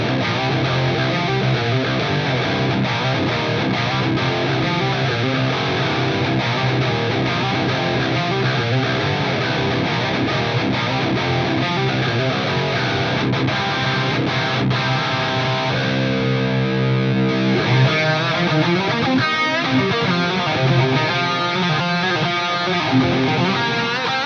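Distorted electric guitar through a Fractal FM3 preset plays continuously and loud, moving from chugging rhythm parts to a sustained, singing lead line partway through, with no talking.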